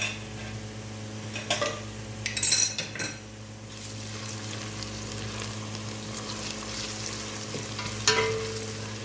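Onion fries with garlic and ginger in a pot for a meat dish, a steady close sizzle with occasional scraping and clinks of a spoon stirring against the pan.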